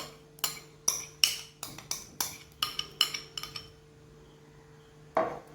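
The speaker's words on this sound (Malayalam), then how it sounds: "ചിക്കൻ നന്നായി മിക്സ് ചെയ്തെടുക്കാം." Chicken is mixed with salt, turmeric and a ground green paste in a bowl, producing a quick run of crisp spoon-on-dish clinks, about a dozen irregular taps that pause before one last knock, close and clear over a faint hum.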